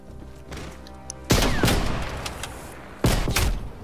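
Video game gunshots in a one-on-one sniper duel, two loud sharp blasts a couple of seconds apart, each followed by a rumbling tail over quiet background sound.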